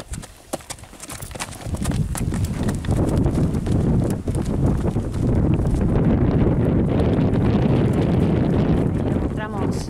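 Hooves thud in a steady clip-clop close by, mixed with wind buffeting the microphone and a busy outdoor rumble.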